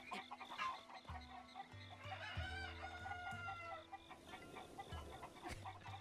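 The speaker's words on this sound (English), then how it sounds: "he has a chicken coop over there and he wants us to find the chickens across Kakariko Village" Chickens in Zelda's Kakariko Village cluck and crow almost nonstop, a dense overlapping chorus of sharp clucks and squawks with a rooster-like call, over steady low game music throughout.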